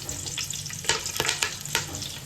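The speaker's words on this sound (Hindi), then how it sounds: "ये गरम मसाले में डालूंगी, जो कि छोटी इलायची, बड़ी इलायची, लौंग, सारे के सारे मैंने अब यहाँ पे डालूंगी मैं" Whole garam masala spices, green and black cardamom and cloves, sizzle and crackle in hot oil in a pot, a close, steady frying hiss with a few sharper pops and no talking.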